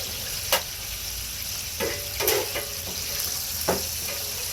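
Chicken frying in a covered pan over medium heat gives a steady low sizzle, with a few brief clinks and scrapes from handling the lid or stirring.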